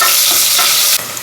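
Onions frying with kasuri methi and bay leaves in a pan for menthya bath, a steady loud sizzle with stirring throughout and a sharper scrape near the end, no voices.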